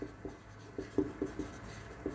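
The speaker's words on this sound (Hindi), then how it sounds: "अब मैं लिख रहा हूं" A pen writing a physics formula in a Hindi physics lesson on the magnetic field of a current-carrying circular coil, giving soft, faint, irregular scratchy strokes in quick succession with no talk.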